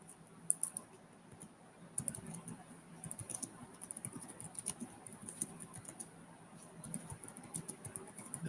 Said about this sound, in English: As you can hear us typing away, we're trying to keep it quiet here.